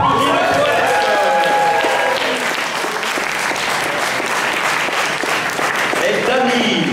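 Audience at a poetry slam semi-final applauds a poet after the scores are read, a full, loud burst of clapping with crowd noise mixed in, sustained throughout.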